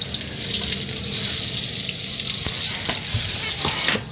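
Onion goes into hot oil in a frying pan for eggplant and okra adobo, giving a steady, close sizzle and crackle with faint clinks of utensils throughout.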